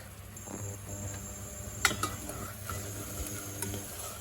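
Onion and garlic seasoned with salt and black pepper fry in a pan with a soft, steady sizzle, broken by a few light clinks of a utensil against the pan.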